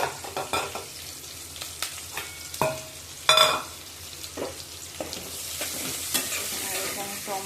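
Black cumin, green chillies and onion hitting hot oil in a pan for fish curry, a low sizzle punctuated by sharp spoon-against-pan clicks and one bright burst of spattering.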